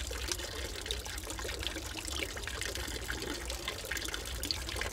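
A 12V whale pump aerates a garden allotment pond for fish, giving a steady, continuous splashing and trickling of water with a low hum beneath, heard close and unbroken throughout.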